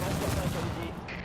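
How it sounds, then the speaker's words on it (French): Gunfire in The Division video game crackles in a dense, rapid burst over busy background noise, loud and close, then fades out near the end. "On a entendu des coups de feu qui venaient de la station du dessus."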